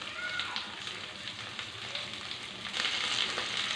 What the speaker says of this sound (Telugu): వేపుకున్నామండి. కలర్ వచ్చేదాకా వేపుకోవాలి.